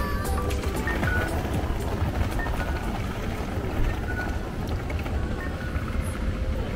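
Heavy rain pouring steadily in Kawasaki, Japan, a dense, continuous wash of noise at an even loudness throughout, with no voices.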